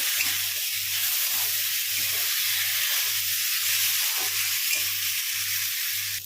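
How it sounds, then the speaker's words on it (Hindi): Potatoes with cumin and crushed kasuri methi roast in a pan, giving a steady loud sizzle and hiss while a spoon scrapes and stirs in an even, regular rhythm underneath. "अब इनको हम 1 से 2 मिनट तक भूनेंगे।"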